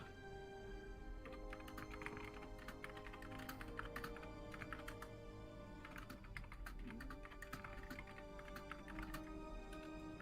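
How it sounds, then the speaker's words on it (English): Rapid, furious typing on a computer keyboard, dense bursts of clicky keystrokes in quick runs with brief pauses, fairly faint over a low background hum. "I hear furious typing."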